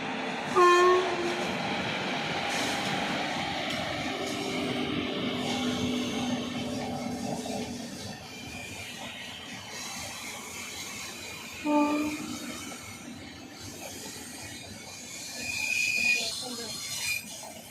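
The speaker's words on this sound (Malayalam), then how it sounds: "ട്രെയിൻ വന്നു. പുതിയ പാസ് ചെയ്ത് പോട്ടോ. ഇതാ പോണു." A train rumbles past at moderate distance with a couple of horn-like tones, fading as it goes, while a person speaks briefly over it.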